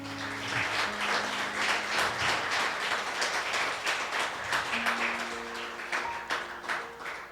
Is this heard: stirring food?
no